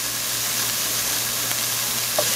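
Chopped onions fry in a pan, a steady bright sizzle and hiss holding evenly throughout with a faint low hum beneath and one small clink near the end.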